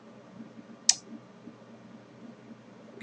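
One crisp computer mouse click from a right-click on a Windows PC, a single sharp tick close to the mic, with a faint low hum of room noise around it.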